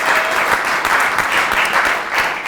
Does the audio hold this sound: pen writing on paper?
no